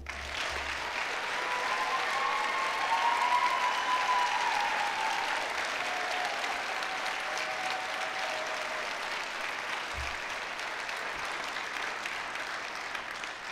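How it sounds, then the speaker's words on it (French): Sustained applause from a graduation ceremony crowd honouring new bachelor's graduates of a humanities faculty, a dense even wash of clapping that holds steady throughout and eases slightly toward the end. "Applaudissons chaleureusement les nouveaux diplômés des baccalauréats de la Faculté des sciences humaines."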